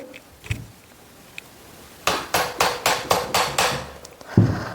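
A screwdriver tightens a screw on a sewing machine, giving a quick run of about seven sharp, close metallic clicks in steady rhythm after a quiet start, then one more knock.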